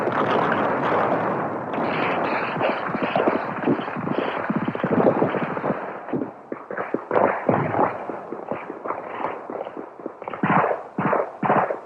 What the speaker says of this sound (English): Camino, I want artillery on that hill, and I want it now.